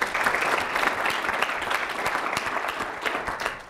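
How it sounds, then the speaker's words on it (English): Audience applause at a healthcare panel summit, a sustained burst of many hands clapping, close and fairly loud, easing off slightly toward the end. "let's give a round of applause for Quinlan"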